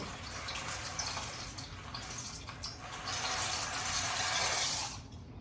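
Water boils in a pot of noodles on a home stove, giving a steady, soft bubbling and sloshing wash that swells slightly near the end, quiet and without talk.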